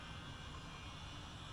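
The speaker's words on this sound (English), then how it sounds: "the noise sounds like a jet engine" A Yakovlev Yak-9 fighter's engine starting up in Microsoft Flight Simulator 2020 gives a steady, jet-like rushing whine, quiet and unbroken with no talking.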